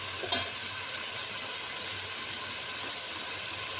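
Mixed vegetables with potatoes cook in a pan with a faint, steady sizzle and hiss, with a brief clatter near the start.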